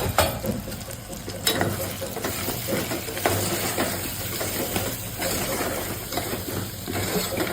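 Potatoes with garam masala, coriander-cumin powder, turmeric and red chilli powder fry in a pan for a Gujarati potato dish, a steady close sizzle with repeated scraping stirs and no talking.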